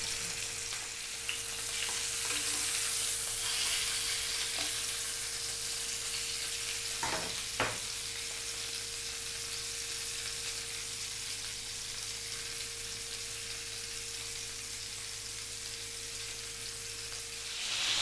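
Chicken pieces fry slowly over low heat in a pan, a steady, soft sizzle running throughout with a couple of brief utensil clicks midway and a faint constant hum underneath.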